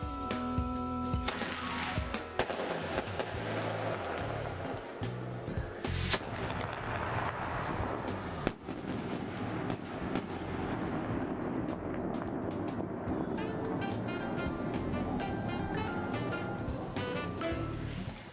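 A firework rocket bursts inside a hand-held launch tube, a harsh, loud roaring blast of expanding gas with crackling, sputtering texture that carries on for many seconds.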